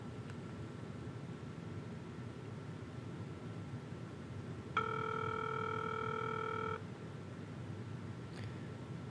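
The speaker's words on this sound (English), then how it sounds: "now I'm going to dial into 5100" A steady multi-tone telephone signal from a Cisco UCCX 11.5 home-lab call being dialed to extension 5100 sounds for about two seconds mid-clip, then stops abruptly, over a constant background hiss with no speech.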